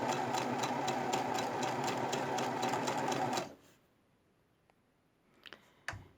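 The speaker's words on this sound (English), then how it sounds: "Set your machine on its buttonhole stitch, and we're just going to stitch this around the edge here." A sewing machine runs a buttonhole stitch around a fabric edge, buzzing steadily with fast rhythmic needle clicks for about three seconds, then stops and leaves a few faint handling clicks in the quiet.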